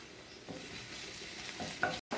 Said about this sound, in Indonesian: Baru kita tumis bawang putih dan cabai yang tadi dihaluskan.